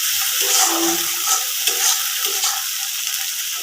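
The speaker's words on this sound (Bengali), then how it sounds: "মশলাটা যত বেশি কষানো হবে ততই মজা হবে।" Spice paste frying in oil in a pan for a dried fish dish, a steady close sizzle with occasional soft stirring scrapes and no talk.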